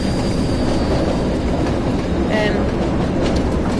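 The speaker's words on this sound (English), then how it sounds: "Yeah, it's a right racket of a train, isn't it?" A train in Train Sim World 2020 rumbles loudly and steadily along the rails, with a broad, constant roar of wheels and a brief squeal partway through, with no pauses.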